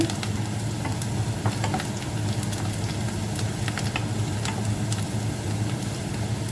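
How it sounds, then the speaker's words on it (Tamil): Mustard, fenugreek and fennel seeds crackle and sizzle steadily in hot oil over medium heat, a dense continuous frying hiss sprinkled with tiny pops. "இந்த டைமில் வந்து கடுகு வெந்தயம் பெருஞ்சீரகம் சேர்ப்போம். அடுப்பை வந்து நாங்கள் மீடியம் ஹீட்டில் விடுவோம். வதக்க விட்டு"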